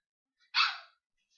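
A pet dog named Reginald lets out a single sharp bark indoors, close and fairly loud, standing alone in otherwise silent surroundings.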